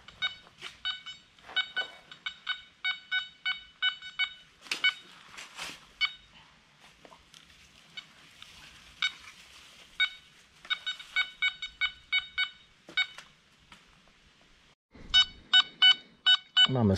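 Metal detector on a target in an old riverbed, giving repeated bursts of sharp electronic beeping tones, rhythmic and fairly close, with short quiet gaps between the bursts.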